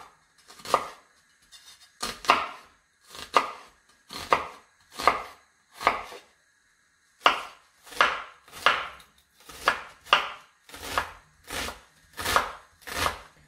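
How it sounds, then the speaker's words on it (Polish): Knife chopping an onion into a fine dice on a board, a steady run of crisp, close, rhythmic cuts in quick bursts with short pauses between, no voices. "Cebulę akurat w tym przypadku kroję w naprawdę drobną kostkę."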